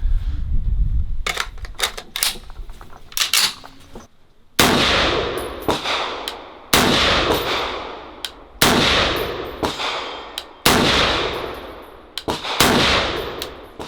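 A Chinese M14 clone rifle fired from a sitting position: a scattered mechanical clatter at first, then six loud, sharp shots at a slow, even pace, each ringing out and fading before the next.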